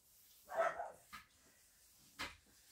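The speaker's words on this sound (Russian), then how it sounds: "А эти гавкают, выскочили на собаку." Dogs bark along a yard fence, a couple of faint, distant yaps spaced apart over a quiet background.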